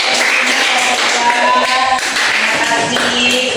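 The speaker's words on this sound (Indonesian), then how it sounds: "Tepuk tangan untuk kelompok 1." Classroom full of students clapping for a presenting group, a dense, loud patter of hand claps running throughout with voices mixed in.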